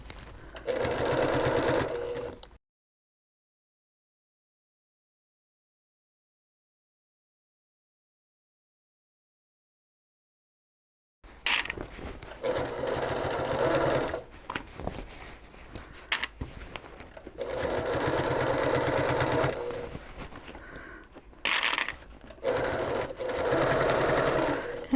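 A sewing machine stitches a reversible bucket hat near a butterfly clip, running in bursts: a short whir, a long pause, then several stop-start runs as it back tacks, with faint handling sounds between.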